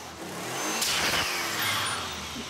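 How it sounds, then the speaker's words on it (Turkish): A Mitsubishi 3000GT engine with a dump valve revs up from idle in a single steady throttle blip that holds for a moment and eases off, heard close by in the open air. "Biraz gaz ver Jeff."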